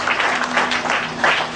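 A church congregation applauds loudly and continuously, a dense close wash of clapping with a sustained tone beneath it.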